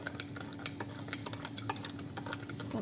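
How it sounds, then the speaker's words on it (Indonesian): Bread dough mix with milk and milk powder is stirred in a bowl, with quick repeated close scraping and tapping strokes of a utensil in a steady rhythm, and no talk. "Nah, kita aduk."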